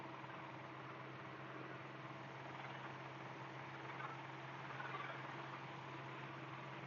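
A light aircraft's piston engine running steadily at low RPM during a pre-flight run-up at Essendon, a continuous even drone with a slight swell toward the end and no voices.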